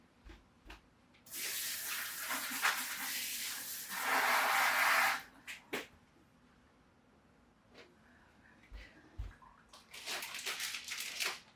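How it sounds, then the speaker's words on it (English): Hands are washed under a running kitchen tap: a steady hiss of flowing water for several seconds, louder and splashier in the middle, then stopping, followed by a brief later burst of water with small clinks. "Now, I'm going to wash my hands."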